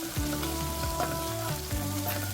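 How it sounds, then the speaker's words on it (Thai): Pounded chili fries in a little oil in a wok, a steady close sizzle and crackle with no speech, set to a light musical backing. "ตั้งกระทะใส่น้ำมันเล็กน้อย ใส่ พริกตำลงไปครับ เราจะผัดพริก ก่อนเลยนะครับ"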